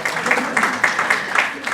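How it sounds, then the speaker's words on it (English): Audience at a creative summit claps in a steady, continuous patter of applause, moderately loud and close, with some crowd murmur mixed in. "please go ahead and clap for him, that's fine."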